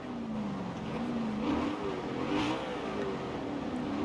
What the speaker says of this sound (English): So you can hear from the inside, you get a lot more of the buzziness coming from the intake sounds of the car too.